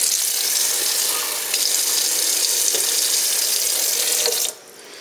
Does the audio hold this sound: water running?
yes